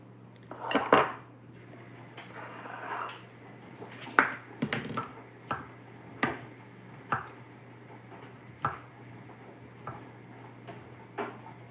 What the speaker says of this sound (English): I'm going to cut these. Just cutting meat, right?